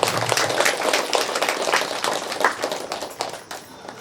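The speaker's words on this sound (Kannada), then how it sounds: "ನಾವೆಲ್ಲ ಜೋರಾಗಿ ಈ ಪಿರಮಿಡ್ಗೆ ಚಪ್ಪಾಳೆ ಹೊಡೆಯೋಣ." An audience applauds at the opening ceremony of the Mahavatar Babaji pyramid in Ballari, a dense burst of many hands clapping that fills the space, then thins and fades toward the end, with no speech over it.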